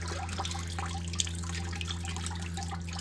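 Condensate water from an inverter mini split running in defrost mode splashes into a nearly full 6-gallon bucket, a steady close drizzle and dripping over a constant low mechanical hum, with no talking.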